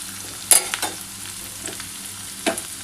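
Chopped garlic added to onions frying in a pan for Bengali egg chops, with a soft steady sizzle broken by a few sharp stirring scrapes near the start and again toward the end.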